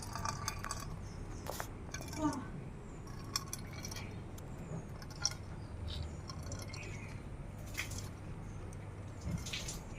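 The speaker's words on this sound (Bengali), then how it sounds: "এই মিশ্রণটা এই ছেঁকনির ভিতরে দিয়ে দেব দিয়ে আমি ছেঁকে রসটা বার করে নেব এভাবে চেপে আমি রসটা বার করে নেব" A wet herbal mixture for hair care is pressed through a tea strainer, giving close, soft squishing and dripping with occasional light clinks against a vessel over a steady background.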